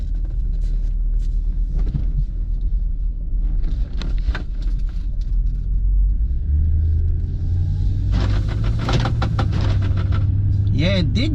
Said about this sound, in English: Driving it around the neighborhood.